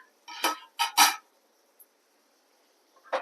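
Boiled potatoes tipped into a cooking pot, heard as three close clattering knocks of metal utensils and pan in quick succession, then a tiny tap and one more clink after a quiet pause, with no talk.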